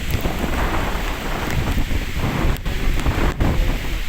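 A loud, dense roar of wind and heavy rain fills the whole clip as storm gusts batter tree branches, gusting and rumbling without pause.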